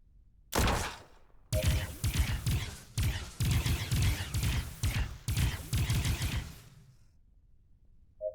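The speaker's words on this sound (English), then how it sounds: "Once again, you open fire, killing several of the soldiers" Automatic gunfire from soldiers in an audio drama battle, sustained bursts of rapid shots in several volleys with brief pauses, loud and close, with faint mechanical clicks at the end.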